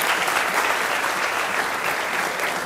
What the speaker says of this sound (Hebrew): מחיאות כפיים לאילאי הצדיק